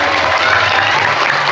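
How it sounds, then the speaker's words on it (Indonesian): Dense, steady applause from an audience at an Isra Miraj commemoration gathering, loud and continuous with no gaps. "tepuk tangan"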